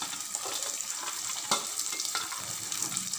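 Garlic cloves and ginger pieces sautéing in a pan for Chettinad white mutton kurma, a steady close sizzle and frying crackle with a few sharp stirring clicks against the pan.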